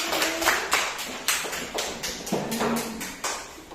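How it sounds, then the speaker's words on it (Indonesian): Children in a classroom clap in a loose, uneven burst of separate claps, close and moderately loud, with no talking over it. "Tepuk tangan untuk kita semua"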